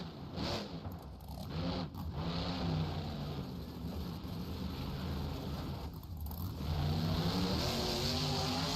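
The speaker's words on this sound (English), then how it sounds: "He's gonna launch this truck now." A truck launching and accelerating in the BeamNG.drive game, engine revving up through rising gears with brief shift dips, a steady close motor drone building in intensity toward the end.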